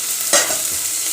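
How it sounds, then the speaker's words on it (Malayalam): Tomato and onion sauté in a pan with a bright, steady sizzle and a single quick stirring scrape partway through. "തക്കാളി നല്ലോണം വഴന്ന് വരട്ട് നമ്മൾ തക്കാളി അതിലേക്ക് ഇട്ടു."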